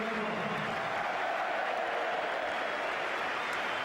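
Stadium crowd at a 2003-04 Chelsea versus Spurs football match applauds a substituted player, Damien Duff, leaving the pitch; a steady, fairly distant wash of clapping and crowd noise lasts throughout.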